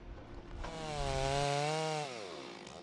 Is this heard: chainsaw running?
yes